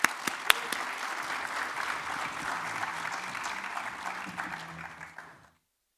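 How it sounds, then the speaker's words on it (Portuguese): Steady audience applause greets speaker Carlos Sardenberg at the ABSOLAR 2023 national solar energy conference, a moderately loud crowd of clapping that fades out toward the end. "Muito obrigada e palmas mais uma vez."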